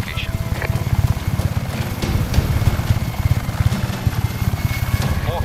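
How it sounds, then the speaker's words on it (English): A helicopter approaches in the video game Just Cause 3, its rotor beating in a fast, steady thumping rhythm that stays loud throughout, with a game voice speaking over it. "Chopper support is approaching your location."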